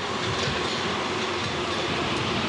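A Paris metro line 6 train runs near Passy station with a loud, steady roar of wheels and carriage noise, constant and close throughout, with no voices.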